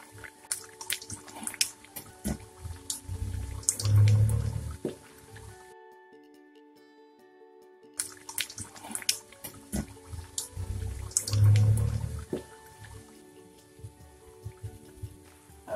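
Jaggery and wheat-flour mathri frying in hot oil over low heat, a dense crackling sizzle that swells in two bursts separated by a brief near-silent gap, close and fairly loud.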